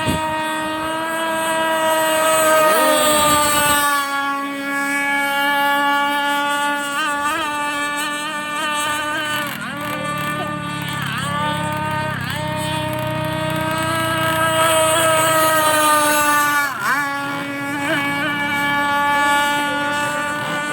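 A small racing toy boat's motor whines on Taal Lake, a high buzzing drone whose pitch rises and falls as it speeds past, loud and continuous with a few sharp pitch sweeps.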